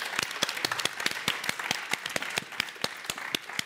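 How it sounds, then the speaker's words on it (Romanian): A television game show studio audience breaks into fairly quiet, uneven applause, with individual sharp claps clearly separated in a loose, rapid rhythm and no talking over it. "Aplauze pentru Mariana, vă rog"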